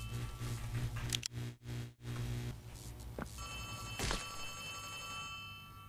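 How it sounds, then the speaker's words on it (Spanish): Telephone ringing in the Poppy Playtime Chapter 3 video game, a faint electronic tone over a hum with a few thumps and clicks, no talking. "Teléfono."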